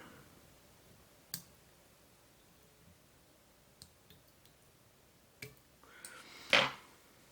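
Scissors snipping off fly-tying material on a caddis soft hackle fly: a few sparse, sharp clicks spread out in near silence, ending with one louder close snip.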